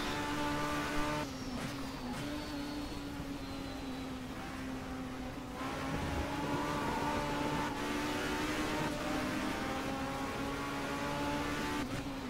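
Several racing cars from different makes battle through a corner at Brands Hatch in the Race07 video game, a steady loud blend of high-revving engine drones with shifting pitch and occasional tire squeal throughout, with no talk.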